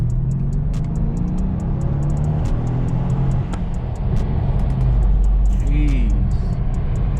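Mercedes CLS 550 riding on large aftermarket rims accelerating, a low steady engine rumble and road noise heard from inside the cabin, fairly quiet and smooth, with people talking over it.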